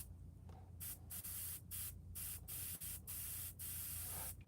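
An airbrush sprays white paint in repeated hissing bursts of about a second each, separated by short gaps, close and fairly loud, with no talk.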